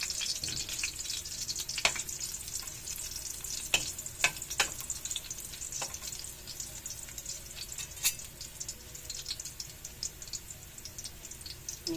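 Garlic sautéing in a pan for pansit lomie, a continuous close sizzle and crackle with scattered sharp pops and clicks of a utensil against the pan, steady and fairly loud throughout, no voices.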